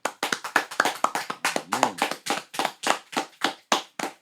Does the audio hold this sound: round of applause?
yes